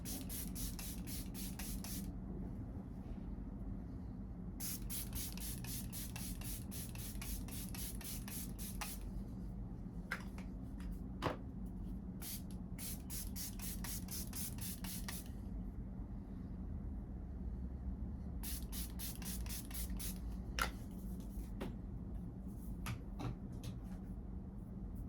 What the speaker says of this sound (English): say let's do a little bit of spray.